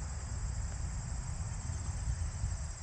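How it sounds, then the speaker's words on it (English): Crickets chirp in a steady, high continuous drone over a low background rumble on a disc golf course, an even outdoor night-like ambience with no voices. "I can hear some crickets and birds"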